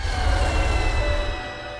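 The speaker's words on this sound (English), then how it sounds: "The young Banshee lets out a menacing howl." A young Banshee creature in a fantasy game lets out a menacing, wailing howl, loud and sustained with a rumbling low undertone, fading slightly at the end.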